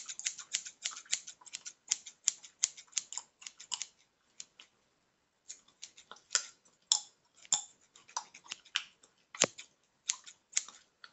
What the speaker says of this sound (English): This is my scissors.